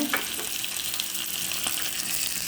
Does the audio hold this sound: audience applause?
no